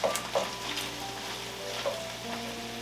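Minced garlic, four or five cloves, sizzling in a skillet: a soft, steady frying hiss with a few light stirring scrapes near the start and middle, fairly quiet.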